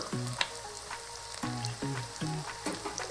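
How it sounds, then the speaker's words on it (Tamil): Chopped onions and green chillies sizzle in a hot pan, with repeated scraping strokes of stirring at a steady pace, close and moderately loud. "நம்மளோட வெங்காயம் ஸ்லைட் கோல்டன் கலர் ஆகிற வரைக்கும் இதை கொஞ்சம் வதக்கிப்போம்."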